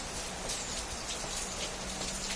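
Rain falls outside as a soft, continuous hiss with scattered faint drips and patters, fairly quiet and even throughout, with no talking.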